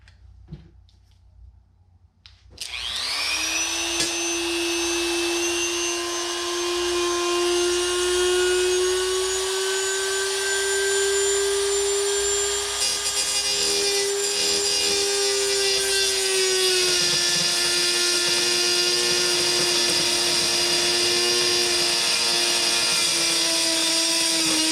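A high-pitched rotary engraver whines steadily while cleaning up a cut hole in a motorcycle bar bag mount. It starts abruptly after a quiet moment and holds a loud, sustained, slightly wavering tone for over twenty seconds.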